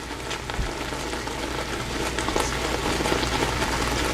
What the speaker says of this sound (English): now I am going to add just 4 teaspoons of ghee